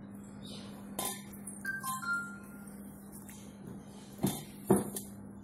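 An amla, ginger and lemon juice mixture for amla sherbet is stirred, giving a few scattered clinks of a spoon against the vessel over a low steady hum.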